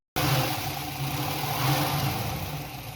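A Chevrolet C10 pickup's engine runs steadily at a low, even idle, close and loud and heard alone, with a slight fuel leak at the front bowl dripping onto the intake.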